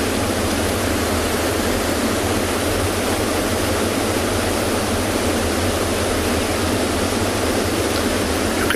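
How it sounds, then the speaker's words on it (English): A river's waterfalls pour down over rocks on a sunrise safari at Tswalu, a steady dense roar that runs without pause for the whole stretch, loud and close with no voices. "in the background, you can hear the waterfalls of this river rolling down from"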